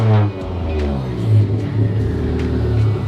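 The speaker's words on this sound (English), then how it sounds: "the car is running absolutely perfect" Freshly tuned car engine running smoothly at a steady idle, a close, even rumble with faint tapping clicks on top, no voices.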